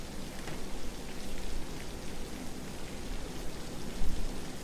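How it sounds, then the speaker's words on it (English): Heavy, steady rain pours down outside a deserted motel in the 1960 film Psycho, a dense continuous hiss with no talk. "I'm sorry I didn't hear you in all this rain"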